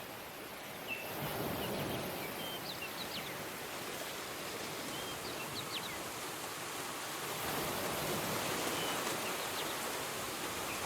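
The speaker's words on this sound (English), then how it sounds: "light rain on roof with some birds sounds like what we need" Light rain patters steadily on a roof, a dense even hiss that swells slightly midway, with faint bird chirps scattered through it and no voices.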